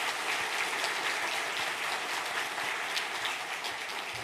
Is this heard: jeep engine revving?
no